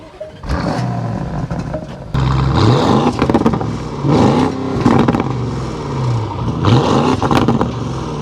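A 2024 Porsche Cayenne Turbo GT with a V8 cranks and catches, then settles into a rumbling idle broken by several sharp revs that rise and fall, loud and close, with no talking over it.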